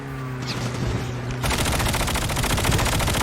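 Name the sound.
gunfire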